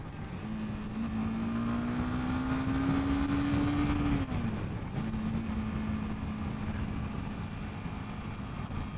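A 2021 Honda CBR 300R motorcycle engine during a test ride, a steady hum holding a tone that climbs slightly, drops and then settles, under continuous road and wind rumble.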